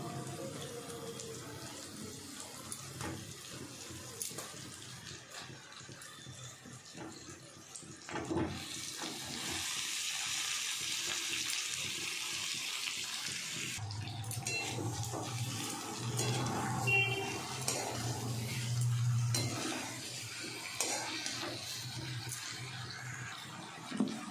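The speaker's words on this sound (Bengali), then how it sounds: "তাই গরম জল দেব।" Hot water runs steadily into a cooking pot holding potatoes and cauliflower, a continuous splashing pour that swells louder partway through and carries on alone without talk.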